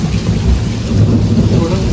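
The first monsoon rain pours down hard with thunder rumbling, loud and close: a dense, unbroken roar of heavy rainfall with deep low rumbles underneath and no voices.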